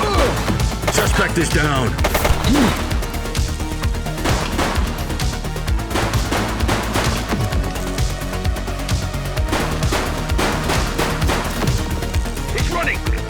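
Gunfire in The Precinct, a police video game, with sharp shots scattered through a busy, loud mix under steady talk.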